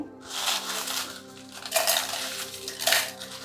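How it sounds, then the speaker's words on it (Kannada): Roasted gojju powder spices scraped and tipped into a metal mixer jar, producing dry clinking and rattling bursts at a close distance. "ಫುಲ್ ಎಲ್ಲದೂ ಕೂಡ ತಣ್ಣಗಾದಮೇಲೆ ನಾವು ಮಿಕ್ಸಿ ಜಾರ್ಗೆ ಹಾಕಬೇಕು"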